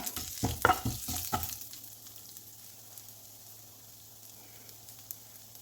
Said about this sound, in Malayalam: ജീരകം ഇട്ട് കൊടുക്കാം ഒരു ചെറിയ കഷ്ണം ഇഞ്ചിയാണ് ചെറുതായി കട്ട് ചെയ്തതാണ് അതുകൂടി ഇട്ട് കൊടുക്കാം ഒന്ന് സോട്ടാക്കി കൊടുക്കാം